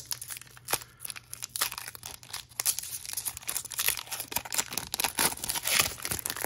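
Tearing and crinkling of a foil Magic: The Gathering Return to Ravnica booster pack wrapper being pulled open, a stubborn pack giving close, continuous rustling and ripping bursts with no talking.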